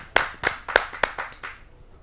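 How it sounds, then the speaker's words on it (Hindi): A short burst of hand clapping welcomes poet Preeti Kachhal at a Hindi kavi sammelan: about seven distinct, evenly spaced claps, fairly faint, fading out at the end. "आइए जोरदार तालियों से स्वागत करते हैं।"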